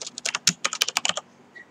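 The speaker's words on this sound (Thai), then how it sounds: "พิมพ์คำว่าโกล" Quick bursts of close, crisp computer keyboard keystrokes, about a dozen clicks in a fast irregular run, stop abruptly and leave near silence.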